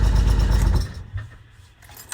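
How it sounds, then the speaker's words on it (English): A Nanni 375 HE marine diesel engine on a boat shuts down: the low, rumbling idle runs loud for under a second, then cuts out abruptly, leaving a brief shudder and faint mechanical ticking. "Press and hold to stop the engine."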